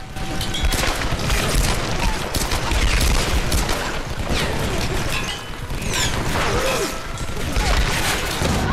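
Dense gunfire in the Tomb Raider video game, with rapid bursts of shots and crashing impacts, loud and continuous throughout.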